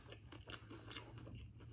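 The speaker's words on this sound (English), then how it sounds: "Let me finish chewing, then speak." Close-up crunchy bites and chewing of Dave's Hot Chicken, a spicy fried chicken, with several sharp crackling crunches over quiet, soft background hum.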